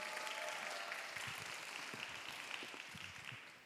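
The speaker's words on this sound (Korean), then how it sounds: "큰 박수 한번 부탁드릴게요" Applause from the congregation at a Sunday young-adults church service, a steady dense wash of clapping that holds evenly for a few seconds and tapers slightly at the end, with no talking.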